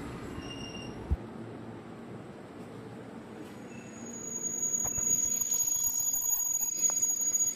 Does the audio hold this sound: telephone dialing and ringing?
no